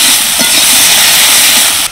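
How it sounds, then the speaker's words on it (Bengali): Cauliflower frying in hot oil with a pinch of salt and turmeric, a loud, steady broadband sizzle with a hissing wash that holds throughout and cuts off sharply at the end. "এবার নেড়ে চেড়ে ভালো করে ভেজে নেব।"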